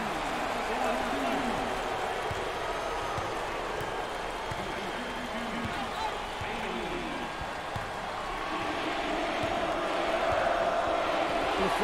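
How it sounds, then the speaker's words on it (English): A basketball arena crowd at an NCAA March Madness first-round game between UCSB and Baylor cheers for Tinsley, a steady roar of voices under play-by-play commentary that swells toward the end. "Tinsley is receiving lots of love from the crowd."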